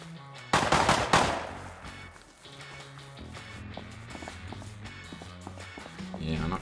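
Bursts of automatic gunfire from an enemy player in the survival game Rust, loud and sharp at first, then quieter scattered shots and footsteps, with someone talking over them.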